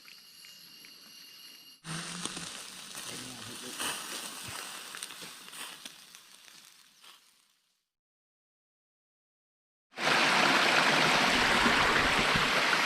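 River water flowing over the Ngon Hin rocks, a steady rushing roar that drops out for a couple of seconds before returning louder and closer.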